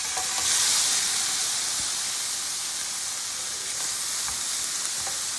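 Shrimp sizzling in hot olive oil in a pot for a cauliflower rice stir fry, a close, steady, loud hiss with a brief surge near the start and no talking.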